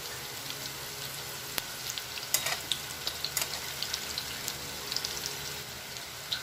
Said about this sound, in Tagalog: natin piniprito ang ating tokwa